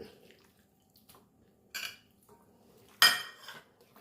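Chicken pieces are dropped into spiced masala for chicken 65 and mixed in a bowl, giving a few sharp clinks and clatters of a utensil against a dish between quiet gaps, with the loudest clank near the end.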